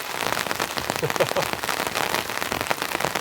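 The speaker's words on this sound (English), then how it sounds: "It's cozy listening to the rain." Heavy rain patters densely and continuously on a winter hot tent at a campsite, heard from inside as an even, close drumming with scattered louder drops.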